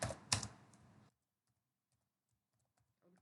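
Rapid clicking of computer keyboard keys as HTML table code is typed, a dense burst of close keystrokes that stops abruptly, followed by near silence with a few faint taps.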